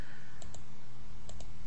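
A computer mouse clicks in a quick double click, then a second double click a moment later, sharp and close over a low steady hum.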